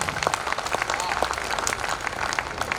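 Audience applause at a Hindi poetry recital, dense crowd clapping heard up close, loud and continuous throughout with a busy patter of many hands.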